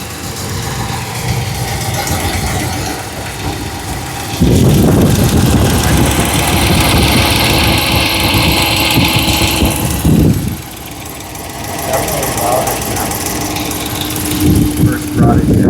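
Rebuilt 5.7-litre engine in a 2009 Ram pickup idling with a steady rumble and a light tick riding over it, growing louder for several seconds as if approached up close, then settling back.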